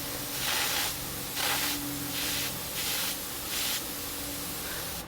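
A dirty, poorly cleaned airbrush sprays paint in pulsed bursts, about six steady hissing sprays in a row, close and fairly loud, each separated by a brief lull, with no one talking.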